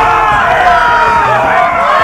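An arena crowd roars with cheers and shouts at a gladiator-style fight, a loud, dense wall of voices sustained without a break.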